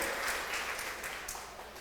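Scattered clapping from a church congregation, a steady patter of applause that holds throughout.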